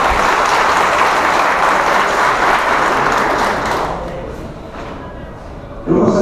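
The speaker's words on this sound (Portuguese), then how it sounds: "um aplauso para a Vitória." Audience applause fills a ceremony honoring former mayors of Caxias do Sul, RS, a loud, dense clapping that holds steady and then thins out as it fades toward the end.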